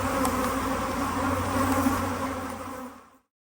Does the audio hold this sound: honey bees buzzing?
yes